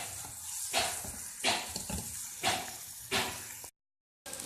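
Baingan bharta, a mashed eggplant mixture, cooks in a pan with a soft, low sizzle, swelling in several brief bursts as it is stirred, before a short moment of silence.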